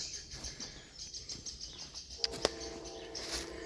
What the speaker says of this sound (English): You can hear the trains in the distance.